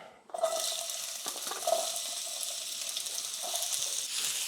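Onions stir-frying in organic olive oil in a pan, a steady close sizzle that starts abruptly and keeps up with occasional stirring scrapes.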